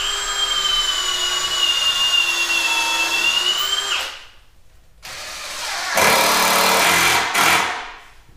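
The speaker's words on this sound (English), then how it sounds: "Currently I'm putting 1 screw in through this side" A power drill drives screws into a homemade rodent breeding rack, whining steadily at close range for about four seconds, then stopping and starting again in two short bursts.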